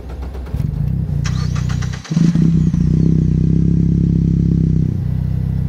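A Morgan Plus 4 four-cylinder sports car engine cranks briefly, catches and fires up, then settles into a loud, raspy idle close by.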